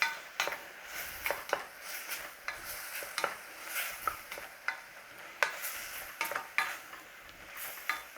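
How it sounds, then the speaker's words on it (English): Spoon scraping and clinking against a bowl while stirring spice into an apple strudel filling of whole apples, a close, soft repeated rhythm of light clicks and wet mixing with no talking. "I'm going to give it a stir in."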